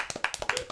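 A few people clap in quick, uneven bursts, roughly a dozen sharp hand claps over under a second, close and fairly soft, with no talk over them.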